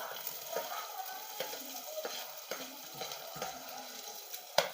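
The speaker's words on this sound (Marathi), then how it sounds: "लगेच कांदा टाकून घ्यायचाय आहे म्हणजे चांगला असा लाल परतून घ्यायचा आहे कांदा" Onion hisses in hot oil with garlic and green chili while being stirred and fried until red for pav bhaji, a steady sizzle broken by repeated soft spatula scrapes and taps.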